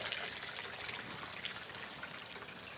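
A gentle, continuous wash of a small waterfall trickles and splashes nearby, steady and fairly soft, with no one speaking.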